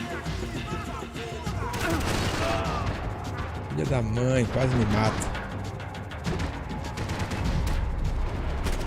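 Gunfire in the video game Max Payne 3, bursts of shots and impacts mixed with game noise while someone talks excitedly over the action.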